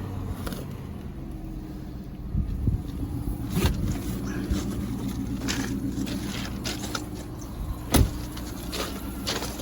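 A damaged 2017 Corvette Z06 sits idling with its air conditioning blowing, a steady low engine drone under a constant fan hiss, punctuated by occasional clicks and a sharp knock near the end.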